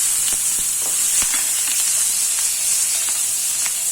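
Chillies roast in a pan with coriander powder, giving a constant close sizzle and hiss dotted with small crackles and pops.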